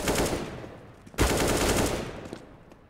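Rapid automatic gunfire from a Counter-Strike match on the Overpass map at a DreamHack Open esports event rattles loudly in dense bursts, with one sharp shot standing out partway through.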